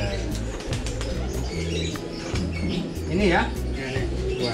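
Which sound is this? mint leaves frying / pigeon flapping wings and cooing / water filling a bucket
pigeon flapping wings and cooing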